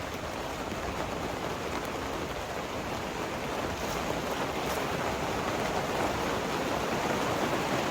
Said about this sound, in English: It's now starting to pour down rain.